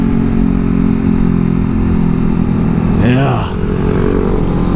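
A Kawasaki Ninja 400 motorcycle rolls downhill with a loud, steady engine drone and wind buffeting, while a short word is spoken over the riding noise.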